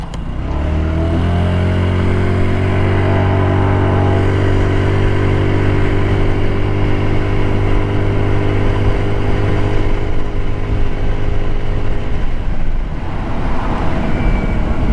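An Icebear Hawkeye 150cc scooter ridden along a country road, its engine droning loud and close with a steady buzzing tone that holds, then eases off near the end, with no voices.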